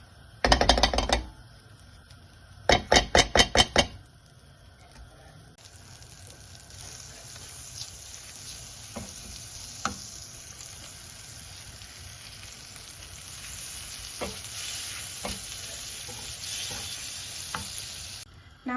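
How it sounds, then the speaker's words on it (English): Butter melts in a pan for a chocolate dessert, giving a soft steady sizzle throughout, opened by two bursts of sharp clattering taps of metal on the pan. "To a pan, add 1 tablespoon of butter"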